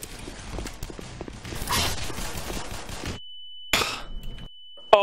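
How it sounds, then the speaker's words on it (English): Weapon reload in the game Black Mesa: quick mechanical clicks and clacks over gunfire and busy game noise, then a steady electronic tone with a brief clattering burst and a final sharp click. "Oh, reload"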